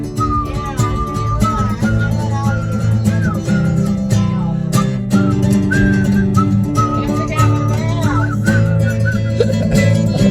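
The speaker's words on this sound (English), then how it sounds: "Let's go back to that whistling." Melodic human whistling carries a tune over a loud band backing of guitar and drums, the whistled line gliding and warbling in short phrases throughout.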